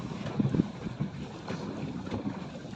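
Wind buffets the microphone in a steady, rough rush with low gusty rumbles, like a breezy open shoreline.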